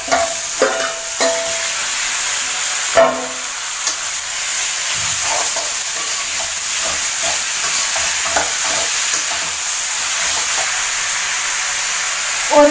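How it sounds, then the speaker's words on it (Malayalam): Marinated chicken for a garlic chicken fry sizzles loudly in a pan, with repeated stirring scrapes and clatters over a continuous frying hiss, no talk. "ഇനി ഇതിലേക്ക് നമുക്ക് മാരിനേറ്റ് ചെയ്ത് വെച്ച ചിക്കൻ ഇട്ട്"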